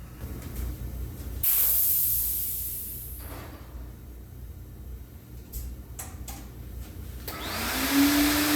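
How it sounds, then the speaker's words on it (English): Sandblasting a tractor battery compartment cover with welded tabs inside a blast cabinet: a loud, steady hiss of abrasive spray that surges on and off, with short pauses and bursts. "We're going to sandblast around these tabs I welded on the outside and then the inside"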